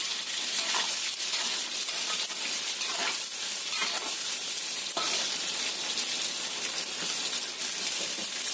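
Sliced vegetables frying in hot oil in a pan while being turned, a constant bright crackling sizzle with occasional soft scraping stirs, close and steady with no voices.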